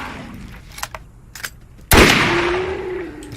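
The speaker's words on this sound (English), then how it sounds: "I need one more kill with an assault rifle" A single heavy assault rifle blast rings out loud and close in Borderlands 1 Remastered, its long ringing tail trailing away, after a few faint clicks and taps.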